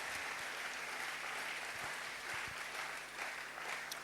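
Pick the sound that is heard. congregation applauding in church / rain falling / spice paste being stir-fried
congregation applauding in church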